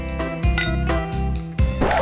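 Glasses clinking in a toast: a couple of bright clinks over a loud, full background of music, close and sharp.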